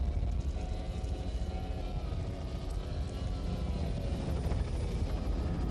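A helicopter flying at about 90 miles per hour drones continuously with a steady rotor thrum and broad rushing noise, loud and constant throughout, with no voices.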